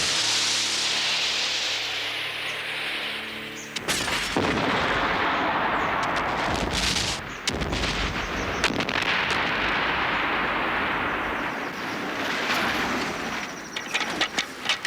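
A model rocket blast-off staged for a film, with the rocket riding a fishing line: a sustained, loud roaring rush of noise with sharp crackling bursts, following a short stretch of steady tonal hum.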